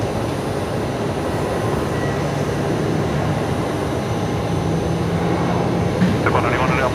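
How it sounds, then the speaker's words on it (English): A Qantas passenger jet starts its takeoff roll on runway 19 left, a steady, distant engine rumble with a faint tonal hum and a brief rise near the end, under faint voices. "Right, Qantas 559 heading off over here on 19 left. They're just beginning their takeoff roll now."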